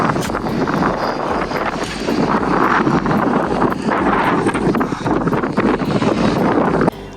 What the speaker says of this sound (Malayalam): അതിഭയങ്കരമായ കാറ്റ്, അതുപോലെ നല്ല തണുപ്പും.